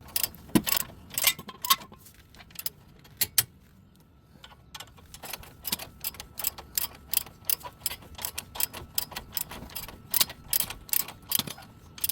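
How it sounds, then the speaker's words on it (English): Torque wrench tightening brake caliper bracket bolts on a Pontiac G6, a long run of rapid ratcheting clicks in bursts, close and crisp, with a brief quiet gap near the start. "Torque the brake caliper bracket bolts down to 96 foot-pounds."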